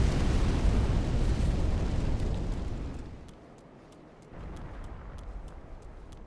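A dragon's fire blast in Dark Souls III roars as a loud, dense rushing blaze for about three seconds, then fades. A quieter crackling continues alongside faint repeated ticking.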